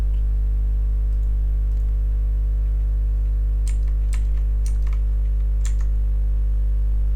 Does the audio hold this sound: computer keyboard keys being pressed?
yes